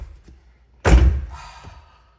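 A C5 Corvette door fitted with a new door gasket swings shut in a single solid, deep thunk, close and loud, followed by a brief fading rattle in a quiet setting.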